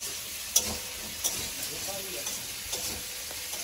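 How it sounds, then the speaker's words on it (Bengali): Fish frying in hot oil in a home kitchen, a steady broadband sizzle with a few sharp pops and spatters over a low background, with voices talking softly underneath. "এই মাছ ভাজতে গেলেই আমার ভয় লাগে। মাছগুলো এক এক করে দিয়ে দেবো। এই মাছ খুব ফাটে।"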